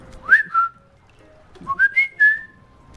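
A person whistles an imitation of the Woody Woodpecker call: two quick rising-and-falling notes, a pause, then a run of three or four chirpy whistled notes, close and clear against near silence.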